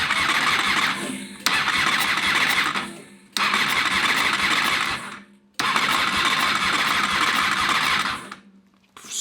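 A fuel-injected motorcycle engine cranks over on the starter in three long, loud whirring bursts separated by brief pauses, close by, without catching.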